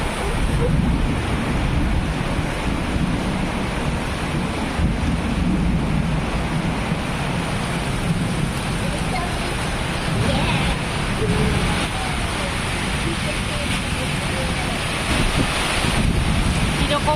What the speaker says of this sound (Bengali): মাঝে বাতাস হইতেছে